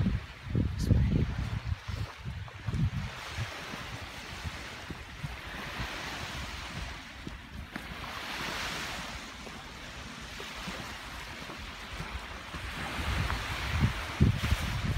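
Lake Superior waves wash continuously onto an eroded beach strewn with rocks at Marquette, Michigan, a steady rushing surf with swells rising and falling, mixed with wind buffeting the microphone.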